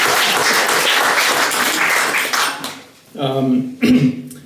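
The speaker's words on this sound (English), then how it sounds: "One more round of applause for" Applause from guests at an annual cocktail party for a nonprofit's benefactor, a dense wash of clapping for a few seconds that fades, followed by a brief voice.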